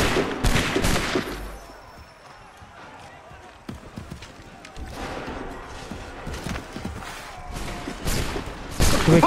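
In Assassin's Creed 3, a volley of gunfire breaks out as loud bursts of overlapping shots, with rumbling and scattered clatter in between. Voices are heard shouting among the shots.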